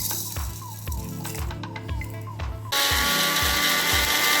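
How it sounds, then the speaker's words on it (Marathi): Mixer grinder running at home, grinding dry spices such as cloves, cardamom, cinnamon, dried chillies, coriander and cumin for masale bhat: a steady loud motor whir with rhythmic rattling of whole spices in the jar, growing louder and harsher partway through. "धणे जिरे हे मी ड्राय मसाला वाटून घेणार आहे"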